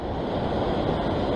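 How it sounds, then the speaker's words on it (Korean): Steady roar of ocean waves surging against a rocky sea shore during rock fishing, loud and close, a continuous wash without distinct breaks or voices. "여기서 파도"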